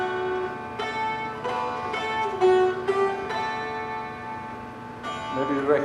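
Wildwood Flower is strummed on a dulcimer with the back of the hand, giving ringing droning strings with bright rhythmic strums, close and without talk.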